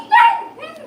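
A three-week-old blue German Shepherd puppy lets out a single short, high whimpering yip up close, with a fainter second whine trailing after it.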